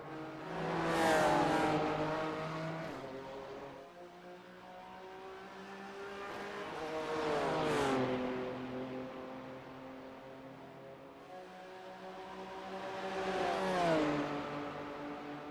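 Race car engines in a sim-racing video game, recorded during a Michelin Pilot Challenge race, rise and fall in pitch through three long revving passes, loud and continuous, each climbing through the gears then dropping under braking.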